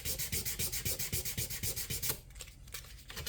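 Steady rhythmic rubbing of 400-grit sandpaper back and forth over guitar frets, quick even strokes close up, then slower scattered scrapes toward the end.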